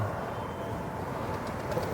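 A racing pigeon, the offspring of a bird that arrived on its own, coos softly in a low, muffled murmur close by against steady background noise.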